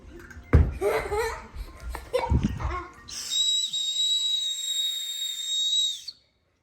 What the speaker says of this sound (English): It's a whistle on your shoe?